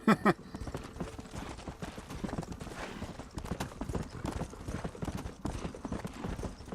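Horse hooves in the video game Red Dead Redemption clatter in a quick, steady galloping rhythm throughout, with a brief loud burst at the start.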